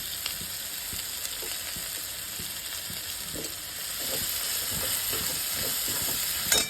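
Chilli powder and spices being stirred into a spicy potato curry in a pan, a soft steady sizzle with rhythmic spoon scrapes that grow slightly louder toward the end.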